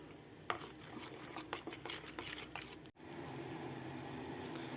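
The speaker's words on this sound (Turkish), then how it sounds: "iyice eriyene kadar böyle karıştırıyorum" A spoon stirs a melting mixture in a pot while making hazelnut Turkish delight, giving a run of soft scraping and tapping strokes at close range. A brief dropout near the middle gives way to a steady, even bed of sound.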